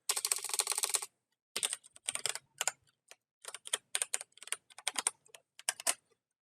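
Rapid typing on a computer keyboard while entering an email address: a long unbroken burst of key clicks, then shorter irregular clusters of taps with brief pauses, close and clear, with no talking.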